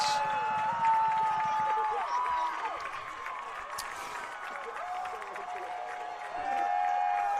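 A soccer crowd at a college championship match cheers and claps after the final whistle and storms the pitch, with a broad roar of voices and running under a commentator's steady talk.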